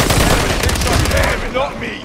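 Loud, dense rapid gunfire bursts from Call of Duty Modern Warfare III, Hardpoint mode on the Rio map, with overlapping automatic weapon shots and a voice partly under the din.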